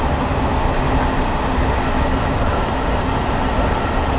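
A London Underground S8 stock train runs in Train Simulator 2019, a loud steady rumble and roar of the moving train that stays constant throughout, with no speech.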